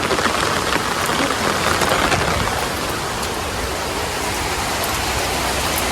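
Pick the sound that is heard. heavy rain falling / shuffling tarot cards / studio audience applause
heavy rain falling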